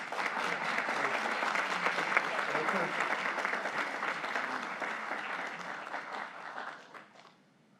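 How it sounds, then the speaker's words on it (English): An audience at a Black History Month celebration applauds the Urban League of Greater Cleveland, steady full clapping that holds for several seconds and then fades out. "Give them one more round of applause."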